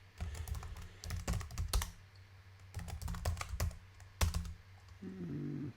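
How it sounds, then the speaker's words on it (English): Someone types a password on a Pinebook Pro laptop keyboard, a close, quiet run of clicking keystrokes in short bursts with brief pauses, followed by a faint tone at the end. "so I'll just type in my password, nice secure one, password"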